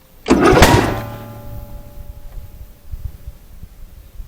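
A riding lawn mower tractor engine starts with a sharp loud burst, cranks briefly and settles into a lower, uneven idle rumble, close up and without talk.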